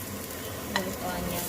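Garlic frying in a pan for squid sisig, giving a steady hiss with a quick stirring scrape near the middle of a very short moment.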